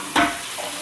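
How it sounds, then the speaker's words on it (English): Water from a hose splashes into a container outdoors on a warm day. A single short, close gush is followed by a fading hiss. "let's fill this up with water."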